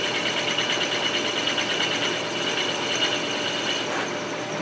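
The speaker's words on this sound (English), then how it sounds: "Yeah, that's not too high speed for a drill bit" A steady, continuous whirring grind of a drill boring a draw bolt hole in a Remington 7400 rifle, holding an even pitch throughout with no voices.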